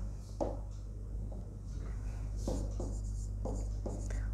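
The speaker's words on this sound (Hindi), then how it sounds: "मैं यहाँ पे लिख देता हूँ" A marker or chalk scratches across a classroom board in short, intermittent strokes, close and fairly quiet over a low steady hum, with no talking.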